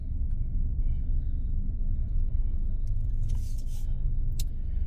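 A big truck rumbles close by on a hot roadside, with a steady low engine drone filling the clip and brief hissy bursts like air brakes near the end; no one speaks.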